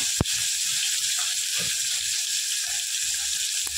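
Tomatoes fry in a pan with a steady, close hiss and sizzle that runs throughout, with a sharp tap near the start and a few faint clinks.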